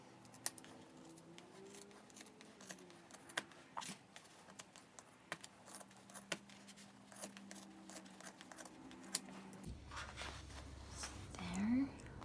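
Scissors snipping macrame coasters loose from a dowel, giving sharp, isolated close cuts spread across the stretch, with a soft whispery voice in the background.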